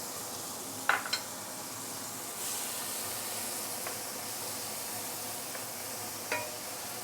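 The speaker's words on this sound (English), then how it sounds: "And let's saute this chili paste for a while." Sambal belacan chili paste with dried shrimp sautéing in oil for stir-fried beans gives a soft, steady sizzle and hiss, with a few faint clinks of a utensil against the pan.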